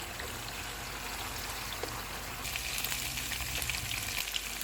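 Chicken steam roast cooks on a stove turned up to full flame, giving a soft, steady sizzle and bubbling that grows busier and louder partway through, heard alone without talk.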